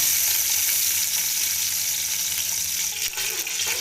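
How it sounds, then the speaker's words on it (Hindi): Ghee heating in a pan, a loud steady close sizzle and hiss with a brief crackle near the end. "घी हमारा लगभग गर्म हो चुका है"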